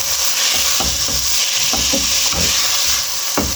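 Chicken frying and being stirred in a pot for winter vegetable and chicken soup, a steady close sizzle with repeated scraping strokes of a spoon against the pot at irregular intervals.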